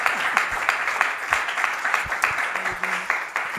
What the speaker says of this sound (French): Alors on peut encore acclamer pour la gloire de Dieu.